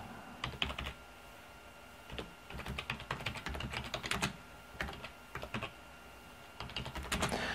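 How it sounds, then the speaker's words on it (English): Someone types on a computer keyboard in quick irregular bursts of light clicking, close and fairly soft, with brief pauses between runs of keystrokes. "basically just type your answer in here"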